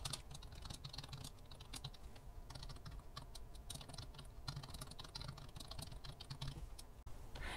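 Steady, continuous typing on a computer keyboard while entering text into a PowerPoint slide, dense fast keystrokes running throughout, close and alone with no talking.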